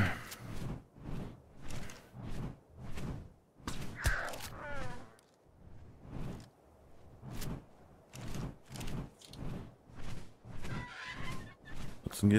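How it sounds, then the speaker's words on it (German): A bird creature in the video game ARK calls in a steady series of loud, honking goose-like bursts, repeating roughly every second with brief gaps between. "Ein Vogel? Hab ich."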